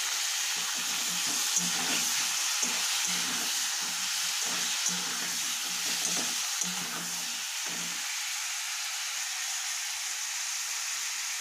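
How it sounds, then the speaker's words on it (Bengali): Chopped tomato hitting frying onion and chili in mustard oil, a continuous loud sizzle and hiss with repeated rhythmic spatula stirs scraping the pan for most of the stretch, then an unbroken sizzle. "পেঁয়াজটা ভাজা ভাজা হয়ে গেছে, দিয়ে দিচ্ছি টমেটো"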